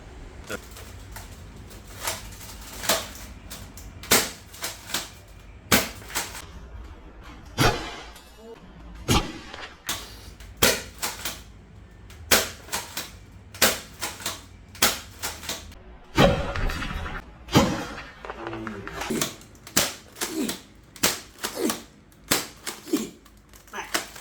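Benelli M3 airsoft BB shotgun firing three BBs per shot, sharp loud snapping shots repeated in an uneven rapid series with mechanical clacks between them, close to the listener.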